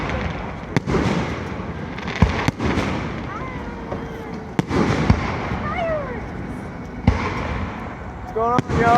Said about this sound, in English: Put a big explosion in the sky.